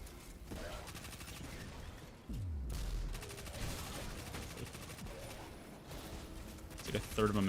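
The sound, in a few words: primary weapon gunfire in the video game Destiny 2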